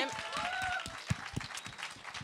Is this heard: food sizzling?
no